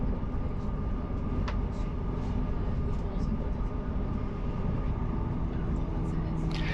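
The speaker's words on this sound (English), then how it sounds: "And flashing past us is the new measurement train, known affectionately as the Flying Banana." A measurement train made up of an old HST set flashing past on the Settle and Carlisle line near Smardale Viaduct, a steady rushing rumble, with people talking over it.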